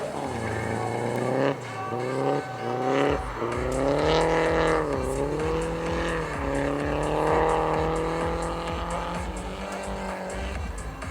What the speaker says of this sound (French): Et derrière dans la S14, qui a quasiment la même prépa que la S13 de Thierry Dubois, c'est Thierry Adam.